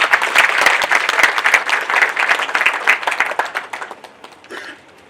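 An audience at a ceremony in Windhoek applauds: dense, lively clapping from many hands that holds strong for several seconds, then thins out and fades away.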